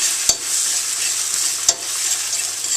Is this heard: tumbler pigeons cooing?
no